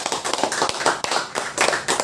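An audience claps steadily through a short burst of applause at a live religious talk, dense and moderately loud, with no speech over it.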